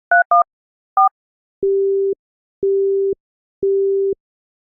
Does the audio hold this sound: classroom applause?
no